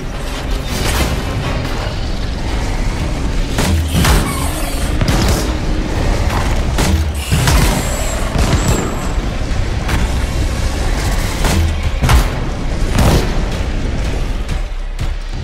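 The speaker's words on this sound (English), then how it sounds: "Let's have Scylla in front with his flamethrower and have you support him with your grenade launcher." Flamethrower and grenade launcher fire in the video game Anthem: a dense, continuous roar of weapon blasts and sharp booms with repeated bursts and pops, loud and close, with no talk over it.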